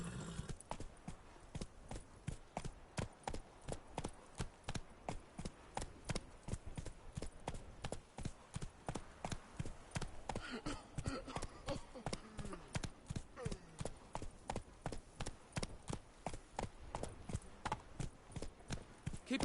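Roach, Geralt's horse in The Witcher video game, gallops with a steady, loud, rapid drumming of hooves, each beat sharp and evenly spaced, continuing throughout with faint background noise and occasional snorting.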